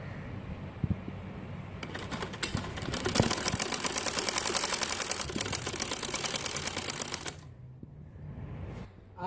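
A sewing machine stitches the seat seam of men's Bermuda shorts, running as a rapid, even mechanical rattle for about five seconds before stopping, close and fairly quiet, with soft handling sounds before and after.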